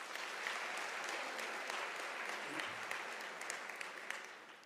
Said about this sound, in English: sign language interpreter. Can we give a loud applause?